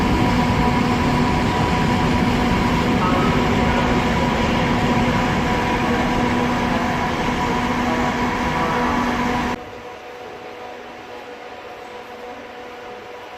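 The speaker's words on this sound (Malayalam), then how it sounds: "ഞാൻ റെയിൽവേ സ്റ്റേഷൻ്റെ പുറത്തെത്തി." Steady loud rumble of a train at a railway station in Ljubljana, Slovenia, with a faint tonal hum, continuous for most of the stretch before dropping abruptly to a quieter background.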